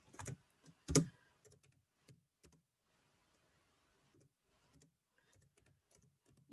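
Keys clack on a computer keyboard while a number sentence is typed into a class work-editing app: a few louder taps up front, then sparse, quiet, irregular keystrokes in a near-silent room.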